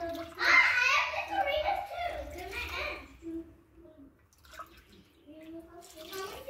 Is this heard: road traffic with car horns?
no